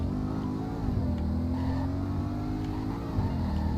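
A car engine revving in the Roblox game Greenville Wisconsin, a steady, close mid-pitched drone rising and falling slightly as the throttle shifts, with no talk over it.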